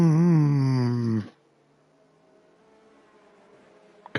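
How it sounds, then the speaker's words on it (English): A racing car engine in a sim race at Portugal revs hard and loud for just over a second, then cuts off abruptly into near silence. "Car noises."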